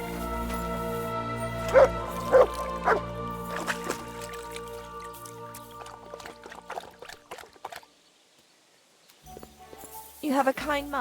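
Dog in Kingdom Come: Deliverance II gives a few sharp barks early on, then quieter yelps amid outdoor game ambience and a voice talking, followed by a near-silent stretch and a brief burst of activity at the end.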